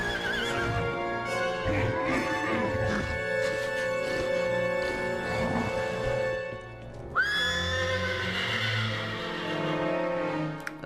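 A horse neighs and whinnies loudly, with clip-clop hoofbeats under a busy animated-cartoon soundtrack with music from Tangled: The Series, a long whinny rising near the end.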